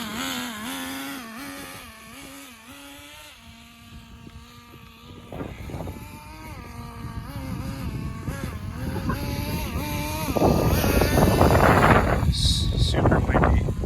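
Steady wind buffeting the microphone, rising and growing rougher toward the end, mixed with a droning engine and some talking.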